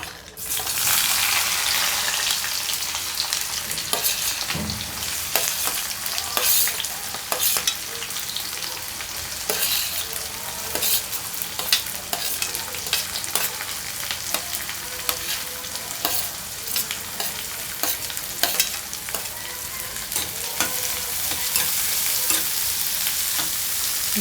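Onions, green chillies and curry leaves fry in hot oil for a gizzard curry, giving a constant loud sizzle with occasional scrapes and clinks of stirring in the pan.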